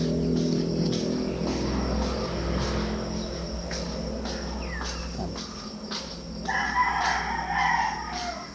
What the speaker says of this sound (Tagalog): Dito na naman yung mga ibon.